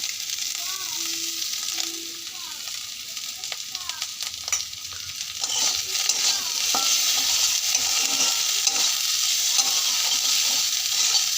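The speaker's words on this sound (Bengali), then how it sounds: "ভাজা ভাজা করে নেবো আমরা হালকা আলু আর কিছুটা পেঁয়াজ" Potatoes and onion fry in a pan with a soft, steady sizzle, broken by repeated scraping and clinking strokes of a stirring utensil that grow busier toward the end.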